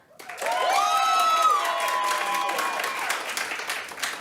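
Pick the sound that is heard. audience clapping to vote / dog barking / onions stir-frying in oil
audience clapping to vote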